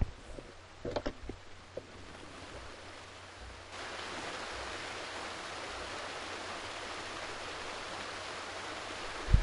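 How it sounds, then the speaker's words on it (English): Steady rushing waterfall ambience from The Sims 3, a constant broadband wash that grows louder partway through, with a few soft clicks near the start. "Watching her playing in the waterfall."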